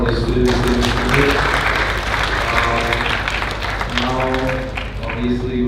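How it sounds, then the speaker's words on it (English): Conference audience gives loud, sustained applause for two speakers at an international academic event, dense clapping mixed with background music tones throughout. "Give again one more time for a round of applause for these two distinguished speakers"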